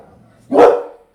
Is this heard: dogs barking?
yes